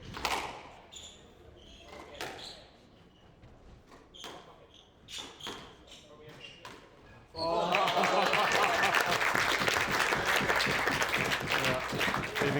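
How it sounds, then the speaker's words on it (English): Squash ball strikes and squeaks echo in the court at a professional squash match, then loud crowd applause erupts and continues, with commentators talking underneath. "Even gets a clap from ZAC Millar as well."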